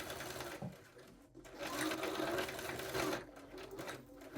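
Home sewing machine stitching a facing onto a diamond-shaped trouser hem, running in a steady whirring buzz that briefly pauses and then resumes, quiet and close, with no talking.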